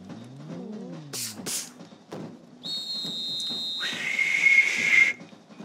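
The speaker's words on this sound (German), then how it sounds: "Ja, ich kann perfekt pfeifen." A person whistles a few clear tones, some rising and sliding, others held steady, close and alone, with soft background sounds and clicks around them.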